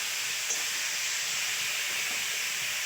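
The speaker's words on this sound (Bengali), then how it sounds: "তো জলটা দিয়ে দিচ্ছি।" Water poured into a hot pan of sautéed vegetables during village cooking in the Sundarbans, giving a loud, steady steamy sizzle and hiss that holds evenly throughout without talk.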